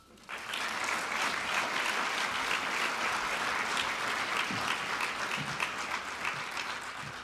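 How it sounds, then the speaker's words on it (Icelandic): Steady, dense applause from an audience at an annual industry meeting in Iceland, welcoming an award, rising quickly after a brief pause and holding evenly to the end. "Gefum Bláa hernum gott klapp"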